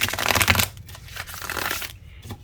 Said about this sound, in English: one of the funnest decks to shuffle